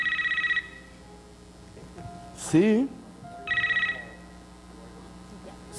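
A mobile phone ringtone trills in two loud bursts, one at the start and one again a few seconds later, with someone talking in between and over the rings.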